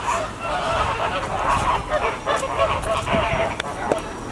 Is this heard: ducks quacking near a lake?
yes